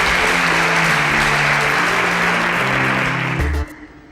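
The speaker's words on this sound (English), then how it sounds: "A round of applause for Stephanie, please." An audience claps loudly and continuously in a hall for a contestant on a competition show, a dense steady burst of applause that cuts off abruptly near the end.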